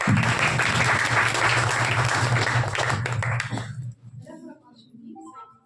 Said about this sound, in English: Have a huge round of applause to Miss Chandni.